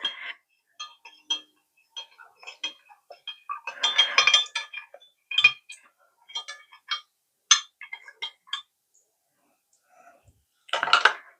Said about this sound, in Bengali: এটাকে আমি ভালো করে মিশিয়ে নেব, যেন নুন একদম গলে যায়, জলের সাথে মিশে যায়।